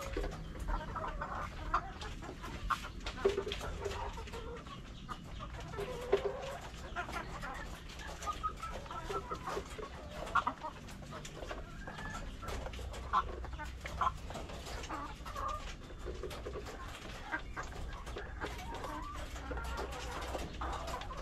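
Chickens in a backyard coop cluck and murmur softly at a distance, with occasional louder calls over low, continuous background noise.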